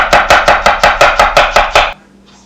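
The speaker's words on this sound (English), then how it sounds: "mince a little bit of onion as well" A knife minces onion on a cutting board with about eight quick, evenly spaced chops, loud and close, then stops into near silence.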